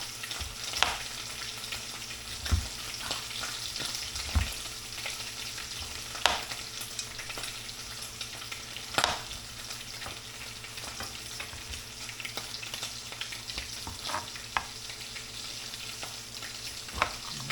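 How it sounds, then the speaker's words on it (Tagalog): Steady oil sizzling and crackling as fish fries in a pan, with occasional sharp pops and spatters throughout, close by and continuous. "Habang nagpiprito ng isda."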